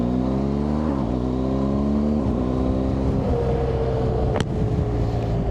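A BMW R 1250 GS Adventure motorcycle rides along a coastal road, its engine droning steadily and shifting pitch as it accelerates, with constant loud wind rush throughout.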